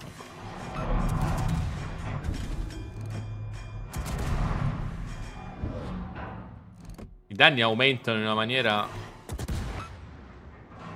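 Heavy naval guns of the Soviet cruiser Kozma Minin boom repeatedly in a naval combat video game, deep thudding salvos with rumbling decay, under continuous talk from a man.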